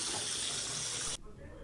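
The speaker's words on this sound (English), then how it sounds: "So if you want to wash your hands, you just put it here, turn on the water." Tap water running into a bathroom sink in a Russian apartment, a steady close hiss that cuts off abruptly near the end as the faucet is shut.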